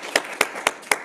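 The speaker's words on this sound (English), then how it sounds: "I hope you can hear the applause." Four sparse, evenly spaced claps ring out at a lecture on traumatic grief, sharp and fairly close in a quiet room, like a small or remote audience applauding.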